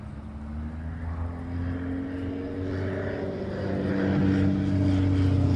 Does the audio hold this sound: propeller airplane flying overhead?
yes